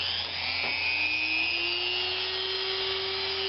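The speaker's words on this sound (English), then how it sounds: "I'm going to try using my Dremel and with a little cutting burr on the top." A Dremel with a small cutting burr carves into maple on a woodturning piece, a steady high whine with a slowly rising tone, close and continuous.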